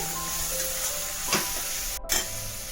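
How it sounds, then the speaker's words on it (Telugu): Raw chana dal frying dry in a pan, a steady broadband sizzle and hiss running throughout, with a couple of brief stirring scrapes. "ఇది తడి లేకుండా బాగా ఫ్రై చేసుకుందామండి"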